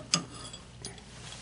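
Torque wrench set to 35 clicking while installing a Midwest Industries lightweight 15-inch free float handguard on an AR15: one sharp close click, then a softer second click, both faint and brief against quiet room noise.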